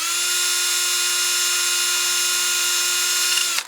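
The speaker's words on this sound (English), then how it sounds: "when I sand on the inside of the bowl" A sanding disc on a drill works the inside of a wooden bowl on a lathe, giving a steady high whine with a constant pitch held for several seconds before it cuts off abruptly, loud and close.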